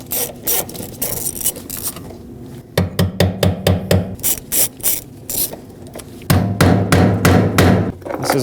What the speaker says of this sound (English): Now we'll use an 8mm socket and remove all the bolts holding this fuel pump down.